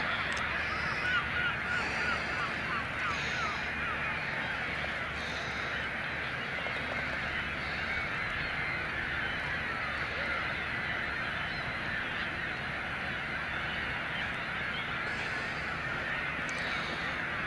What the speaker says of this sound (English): from here I can really hear all the birds